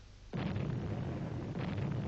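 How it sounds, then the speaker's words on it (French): A deep boom erupts and rolls on as a sustained low rumble, like heavy cannon fire heard at a distance. "Dis-moi, Jo, est-ce que tu n'as pas l'impression que le bruit des canons se rapproche?"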